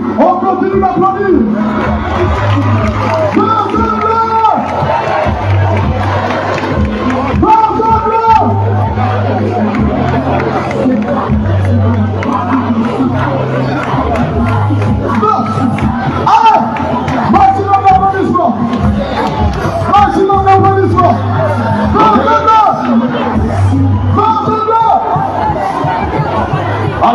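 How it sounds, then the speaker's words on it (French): A large outdoor crowd in Makokou, Gabon, roars and cheers for the transitional president, a dense continuous wall of voices and shouting with music underneath, loud and sustained throughout. "on continue d'applaudir"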